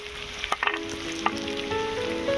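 Salt and turmeric being added to hot oil for a potato, tomato and pea fish curry, with a steady sizzle, a few sharp crackles and clinks early on, then a building hiss, no voices.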